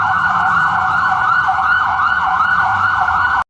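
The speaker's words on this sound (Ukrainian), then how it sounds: "Пожежна машина вже готова виїжджати." A cartoon fire engine's siren wails steadily and loudly, its rising-and-falling tone sweeping continuously throughout, ending with a sudden brief cutoff.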